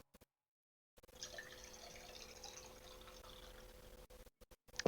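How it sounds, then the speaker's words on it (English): Water sloshing and gulping as someone drinks, faint and close, with soft intermittent liquid noises running for a few seconds after a brief silence. "Sorry about like the constant water noises, folks."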